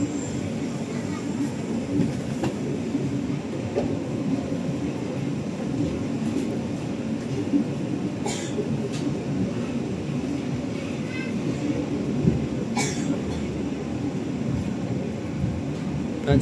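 Aboard the Parahyangan train, the Papandayan train passes on a crossing, a steady close rumble of rolling wheels that continues without letup, with a few faint clicks and knocks over it.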